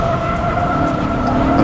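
BMW M5 drifting in the racing sim rFactor2, a loud, sustained engine tone with steady whining harmonics, held at a near-constant pitch throughout.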